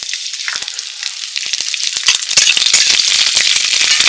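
Chili hits hot oil with browned garlic for a Bengali cauliflower-leaf paste dish, giving a loud, bright, continuous sizzle with crackling pops and occasional stirring rattles, close up.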